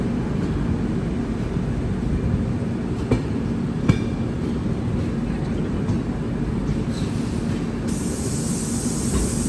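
A Rajdhani Express pulls out and runs on, its wheels giving a steady low rumble and rattle on the track, heard from inside the carriage, with a few brief clicks and a hiss rising near the end.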